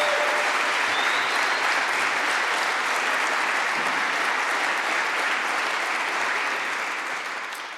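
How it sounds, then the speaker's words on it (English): A conference audience at an ocean-day event breaks into sustained, dense applause that fills the room steadily and then tapers slightly toward the end, with no speech over it. "So I think a really big round of applause for Susan."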